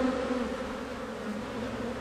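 Honeybees buzz around an open hive in a dense, continuous, close-up drone that holds steady throughout, with no talk.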